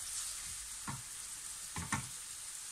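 Ground meat frying in a pan with a teaspoon each of tomato paste and pepper paste, a quiet steady sizzle broken by a few short stirring scrapes, alone with no talk.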